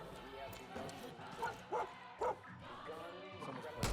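A dog in the video game Far Cry 5 gives a few short barks and yips amid game sounds, with someone talking over much of it.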